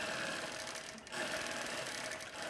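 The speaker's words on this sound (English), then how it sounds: "As I start this machine, it ties a little knot for me, and then the faster I move it, the faster it runs." An Empress long-arm quilting machine runs with a steady, close mechanical whir that dips briefly, then resumes at an even pace.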